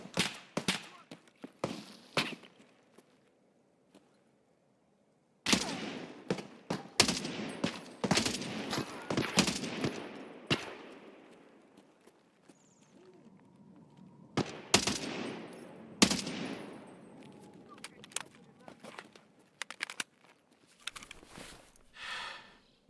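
Gunfire volleys in the shooter game PvE Labs, sharp bursts of rapid shots in clusters separated by quiet gaps, loud and close.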